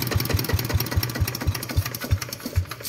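A Yanmar diesel engine runs at idle, thumping in a steady, quick, regular knock of low pulses, close and fairly loud, with no voices.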